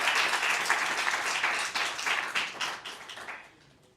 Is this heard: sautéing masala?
no